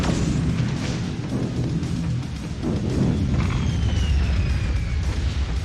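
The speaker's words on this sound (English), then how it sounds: "there's just constant explosions going on in the background" Constant explosions boom through the background of Quake 2 gameplay, a dense, loud, continuous rumble of overlapping blasts with mechanical clanks and a thin whine sweeping across the middle.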